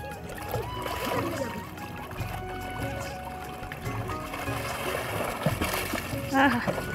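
River water splashes and sloshes around someone bathing, in intermittent soft bursts with a louder splash near the end, while voices talk over it.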